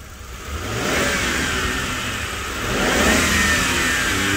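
An old police car engine revs twice, rising in a close, throaty surge, easing back briefly, then climbing again, with no talking over it.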